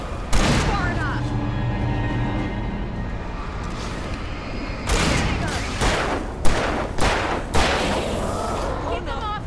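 Gunshots and heavy booms in Alan Wake Remastered on Nightmare difficulty, a loud blast followed by a sustained rumble, then several sharp shots in quick succession amid shouting voices.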